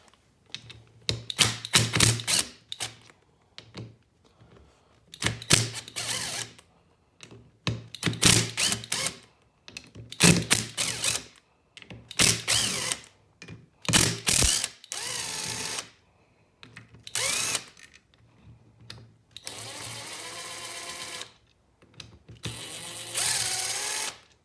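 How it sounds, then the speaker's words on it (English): An impact driver backs out 8 mm bolts on a KLX 110 motorbike clutch cover in a series of loud rattling bursts, several in a row with short pauses between, close and unaccompanied by talk. "I'm going to use my impact driver and zip these off for you."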